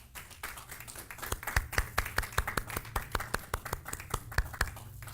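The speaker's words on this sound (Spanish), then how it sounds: "Dale otro aplauso para ellos" Rhythmic hand clapping in a church congregation, sharp claps at a steady beat that swell after the first second and carry on over a low background hum, with no talk.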